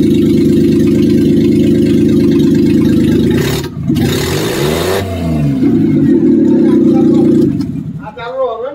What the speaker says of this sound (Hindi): तो एक बार फिर से सेल्फ लगाता हूं